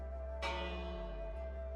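A bell hung on a chain in a Minecraft build rings once, a single faint metallic strike with a lingering tonal decay.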